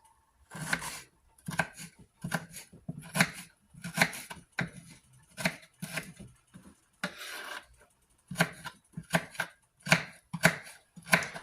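An onion is chopped into smaller pieces on a cutting board, heard as close, crisp knife strikes in quick bursts separated by short pauses, with no voice.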